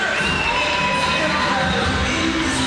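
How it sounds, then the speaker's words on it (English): A large crowd at the launch of the 10th Region 5 Youth Games cheers loudly for volleyball, with shouts, whoops and children's high yells merging into a continuous roar that stays strong throughout. "let's have a big cheer for volleyball"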